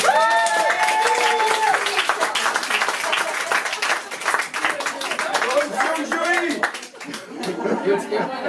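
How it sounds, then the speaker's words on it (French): An audience claps at a slam poetry evening in Antibes, scattered applause mixed with chuckles and chatter, with people talking over it throughout. "applaudissez-vous si vous sentez"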